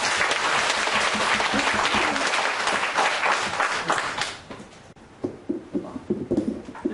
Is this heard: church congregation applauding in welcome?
yes